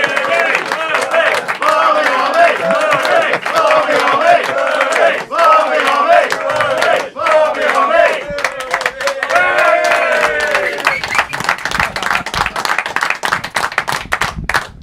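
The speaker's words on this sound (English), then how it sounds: "Burley's Barmy Army, the amount of times that we've sung that over the years, haven't we?" A capacity crowd chants "Burley's Barmy Army" for George Burley, a loud sung chant punctuated by rhythmic group clapping, filling the room continuously and staying dense throughout.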